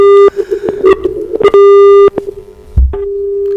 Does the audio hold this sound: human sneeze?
no